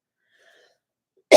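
A single loud cough bursts out at the very end after near silence, from someone in a casual conversational hangout.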